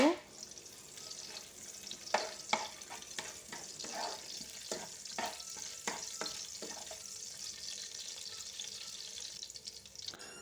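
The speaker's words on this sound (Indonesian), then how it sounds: "Kalau minyaknya udah panas, baru kemudian ini kita tumis bawang merah dan bawang putihnya ya." Shallots and garlic sautéing in hot oil for fried rice, a soft crackling sizzle with a series of scraping spatula strokes in the first half, then a quieter steady fry.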